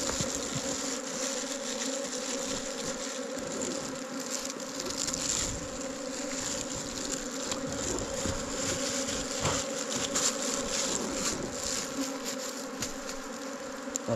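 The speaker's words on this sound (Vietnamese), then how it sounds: "Ong nó về tổ bầm luôn này." Honey bees returning to their nest make a dense, continuous buzzing swarm drone that stays steady and fairly close throughout, with no voices.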